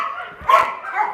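Dogs seized from horrifying conditions barking in a kennel, a short, loud bark rising over a steady background of other dogs yapping and whining.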